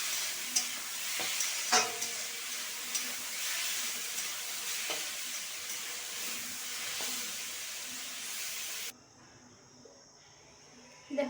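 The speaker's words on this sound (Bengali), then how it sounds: "এইভাবে ভালো করে শুকনো করে আমি ভেজে নেব" Boiled kalmi greens, cooked with salt and turmeric, frying dry in a pan, giving a loud continuous sizzle and hiss with a few stirring scrapes, close up, before it drops away to quiet.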